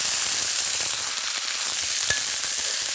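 Chicken pieces sear in a hot pan while browning for a Roman-style chicken dish, giving a steady, close, fairly loud sizzle with faint crackles and no talking.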